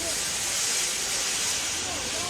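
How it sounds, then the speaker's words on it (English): Steam locomotive in the Trainz simulator releasing a continuous loud hiss of steam, steady and unbroken throughout with no other distinct sounds. "He blew his whistle and wheezed lots of steam."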